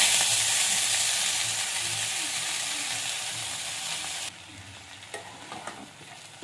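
Red amaranth greens hit hot mustard oil in a wok, setting off a loud broad sizzle that fades gradually, then drops to quieter frying with a few sharp stirring clinks.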